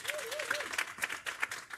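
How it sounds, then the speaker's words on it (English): Scattered audience clapping at a Black Women's Roundtable leadership event, fairly quiet and uneven with individual claps standing out, while a voice carries on briefly over it. "A round of applause as she comes."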